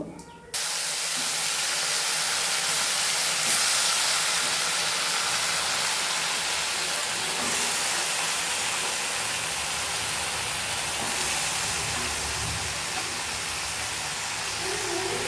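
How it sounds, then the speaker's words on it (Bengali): Washed vegetables hitting a hot frying pan in a home kitchen, with a loud sudden sizzle that settles into a steady, dense hiss lasting throughout, close and alone. "এইবার সবজিগুলো ধুয়ে ধুয়ে এক এক করে সব দিয়ে দেবো"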